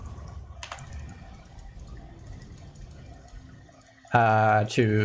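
Computer keyboard keys pressed while setting up a game: soft, scattered clicks and taps under background sound, followed by a loud voice near the end.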